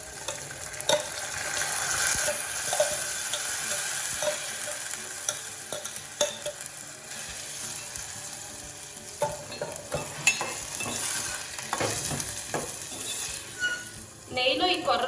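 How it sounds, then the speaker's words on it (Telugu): Soaked foxtail millet and grated coconut frying in ghee while being stirred, a continuous close sizzle broken by frequent scraping and clattering strokes of the spoon against the pan, with talk at times. "కొబ్బరి కొంచెం ఫ్రై అయ్యాక నానబెట్టుకున్న కొర్రలు యాడ్ చేసుకొని లైట్గా ఫ్రై చేసుకోవాలి."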